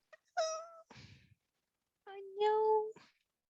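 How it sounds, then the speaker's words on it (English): Cats meow outside a window, two drawn-out, wailing calls a second or so apart, fairly clear and moderately loud, with a brief softer rustle between them. "Am I hearing a kitty meowing? Yeah, it's out of my window."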